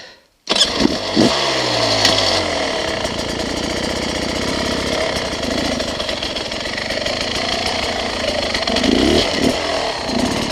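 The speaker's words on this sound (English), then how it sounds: "I'll just let the clutch slip out and I won't give it any throttle, and just let you see how slow this thing will lug." A 2021 Beta 300RR race edition two-stroke dirt bike starts up, then lugs along slowly with the clutch out and no throttle, a loud, close, steady low engine chug with a crisp rattling pulse that holds throughout.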